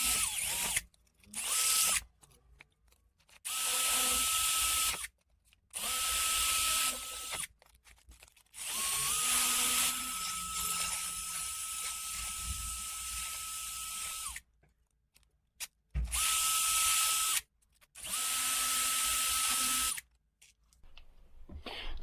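Sandpaper worked by hand against a pitted steel screw from a Bianchi Premio 843 bicycle, heard as repeated bursts of bright, harsh rasping strokes separated by short pauses, close and fairly loud, with no talking.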